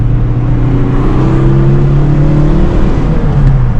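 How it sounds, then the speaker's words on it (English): Engine of a roughly 20-year-old Toyota Camry with a manual transmission and about 200,000 miles, heard from inside as it engine-brakes through a downshift: a steady, loud low drone with a holding pitch throughout, no talk. "If you want to save your brake pads, you want to downshift."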